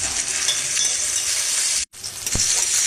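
Onions frying in a home kitchen pan after potatoes, a steady broadband sizzle with faint stirring scrapes, a brief dropout near the end, then a soft utensil tap.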